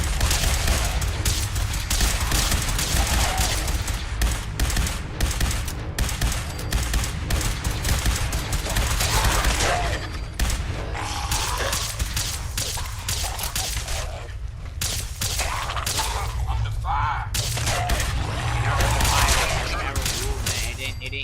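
Gunfire from a video game rattles through dense, continuous battle noise, with bursts and booms layered under players talking throughout.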